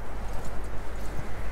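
Horse hooves clip-clopping in Red Dead Redemption 2, a steady run of close, loud hoofbeats over a constant low rumble, with no talk.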